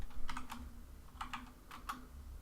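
Quick bursts of computer-keyboard typing, two short flurries of clicky keystrokes close to the mic over a low hum, with no voices.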